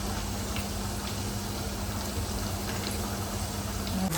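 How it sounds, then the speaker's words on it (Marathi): Bombay duck fish frying in a pan, with prawns and crab cooking alongside: a steady, dense sizzle and hiss carries on evenly and loudly throughout, without pause. "हे बघा आपले मस्त इकडे बोंबील फ्राय होतात"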